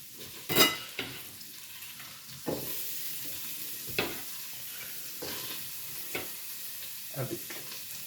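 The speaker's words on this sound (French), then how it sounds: "à feu vif, en ayant mis le beurre, on voit que le beurre il commence à frémir" Faint, steady sizzle of shallots and garlic frying in butter over high heat in a pan, broken by several sharp stirring scrapes and clinks at irregular moments, with no talk.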